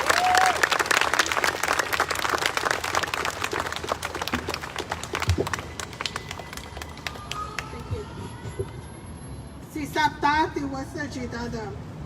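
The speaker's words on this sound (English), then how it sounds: "Keep it clapping, keep it clapping." A crowd at an outdoor protest and press conference in Tucson claps for a speaker. Strong applause at first thins out, and talk and a voice come through near the end.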